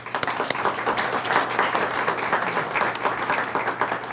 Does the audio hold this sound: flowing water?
no